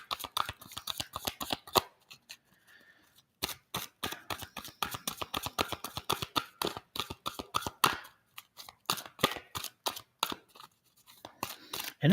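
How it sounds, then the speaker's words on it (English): Tarot cards are riffled and shuffled close up in quick crisp bursts of rapid flicking, with short pauses between runs of shuffling and no talking. "It's having me shuffle quite a bit for some reason."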